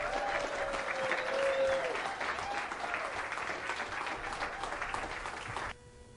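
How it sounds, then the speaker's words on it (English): Keynote crowd at a business event gives a loud round of applause as the guest is called up, sustained clapping that tapers slightly before cutting off near the end, with a brief voice early on. "let's give Aaron Meager a nice loud round of applause"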